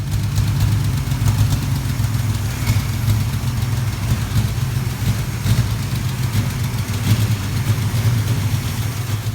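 A 1966 Ford Mustang engine with a new carburetor, gas tank and fuel line idles steadily and loud nearby, a deep continuous rumble with slight uneven sputters running through it.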